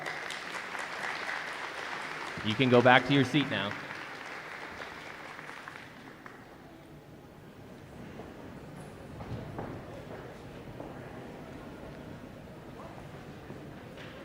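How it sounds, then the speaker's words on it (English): An audience at a high school awards evening applauds in a hall, the clapping moderate and spread out. A brief tonal whistle-like sound rises early on, the applause thins, and a voice speaks over the quieter stretch. "Let's give a round of applause."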